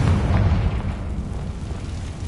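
Confringo blasting spell bursting in the Hogwarts Legacy video game, a loud, deep booming explosion that rumbles and fades over about two seconds, heard alone with no voices.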